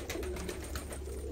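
Pigeons cooing softly in a loft, with a low steady hum underneath and a few brief overlapping calls; no talking.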